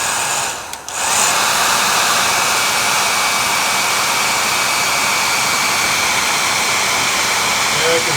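Blower set on high drying a watch face and movement, a loud continuous whooshing roar that briefly dips near the start and then holds steady and close.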